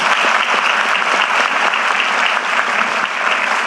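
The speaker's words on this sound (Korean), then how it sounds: "박수 한번 주세요." A crowd at an outdoor public event in Jeju gives loud, sustained applause, with thick, continuous clapping from many hands throughout.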